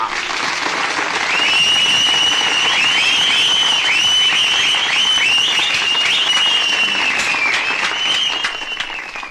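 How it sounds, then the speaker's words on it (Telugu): A large audience at a public meeting claps steadily and loudly for several seconds, a dense, continuous wash of applause that tapers slightly at the end. "బాగా కొట్టారు, కానీ ఎందుకు కొట్టారు ఈ చప్పట్లు?"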